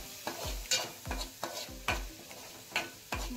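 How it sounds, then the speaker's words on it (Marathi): Spices with turmeric and red chili stirred and fried in hot oil for a bitter gourd curry, a steady sizzle broken by repeated scraping strokes of a spoon against the pan, close and moderately loud. "मसाले चांगले तेल सुटेपर्यंत परतून घ्यायचे।"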